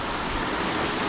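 Steady, broadband rush of Falls Creek Falls, also called Zoja Falls, on a hiking trail near the North Carolina–Virginia state line, flowing at low water level; continuous, close and fairly loud, with no talk.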